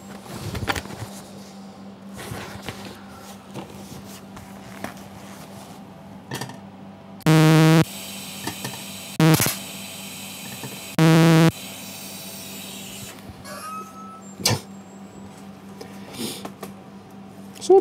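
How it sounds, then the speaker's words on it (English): TIG welding on aluminium produces three short, loud bursts of steady buzzing hiss with an electrical hum, separated by quieter pauses with small clinks. "So David, how long did you spend welding?"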